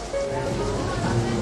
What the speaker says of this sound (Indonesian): Hujan-hujan begini,